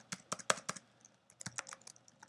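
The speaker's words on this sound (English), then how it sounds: "And then you'll type your message." Rapid keystrokes on a computer keyboard as a message is typed, a burst of clicks, a short pause, then another run of quick, close taps.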